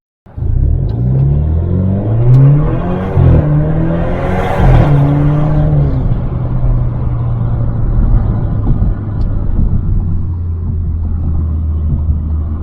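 An Alfa Romeo Giulia accelerates hard from a standstill, its engine climbing through several rising gear pulls before settling into a steady, loud, close rumble with no talk.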